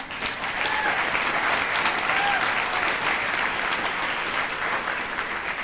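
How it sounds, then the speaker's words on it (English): A celebration crowd gives itself another round of applause, sustained clapping of many hands at moderate loudness, swelling briefly and then holding steady. "Give yourselves another round of applause"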